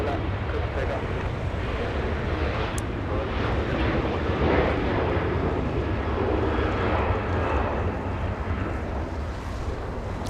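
A jet airliner roars down runway 24 left at Los Angeles International Airport on its takeoff roll, a steady distant engine rumble mixed with wind buffeting across the microphone.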